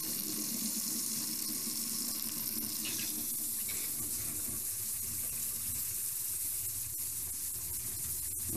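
Water runs steadily from a kitchen sink faucet and drains away, a constant broad rushing splash over a garbage disposal sink that holds at even loudness for several seconds with a couple of faint clicks.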